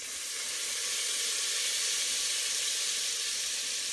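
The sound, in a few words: garlic sizzling in a hot pan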